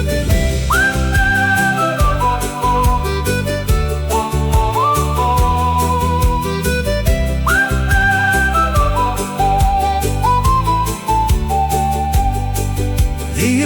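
A clear whistled melody carries a film soundtrack, rising and falling in repeated phrases over steady rhythmic music with accordion-like chords, loud and continuous throughout.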